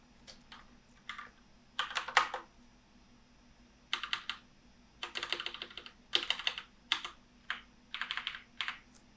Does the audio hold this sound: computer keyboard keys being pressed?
yes